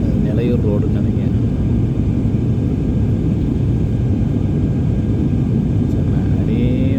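Inside an Indigo passenger airplane flying from Chennai to Madurai, a steady, loud engine roar and cabin rumble fill the whole stretch while someone talks over it.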